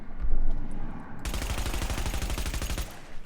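A Vector submachine gun fires full-auto in The Division: one long, fast, rapid-fire burst of evenly spaced shots lasting about a second and a half, loud and close, after a short low thump.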